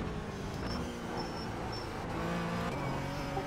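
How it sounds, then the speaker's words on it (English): Cold brakes on a GT3 race car in the iRacing sim give short, repeated high squeals over a low, steady engine drone as the car crawls along slowly. "I think all the GT3s have like squeaky brakes when they're cold"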